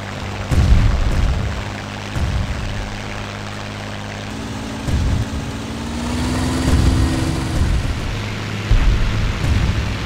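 Rumbling aircraft engine drone with repeated deep booming bursts of Bf 109 gunfire in a video game, a steady roar, a loud, dense mix with no voices.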